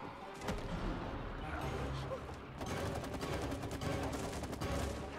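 Rapid gunfire rattles in bursts during a fight with an enemy in the co-op video game It Takes Two, a dense, steady stream of shots with voices talking in the background.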